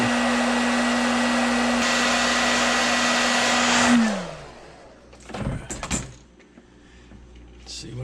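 A heat gun blows steadily and loudly while heat-setting heavily sprayed paint on a pumpkin diver project, then winds down with a falling whine around four seconds, followed by quiet handling clatter.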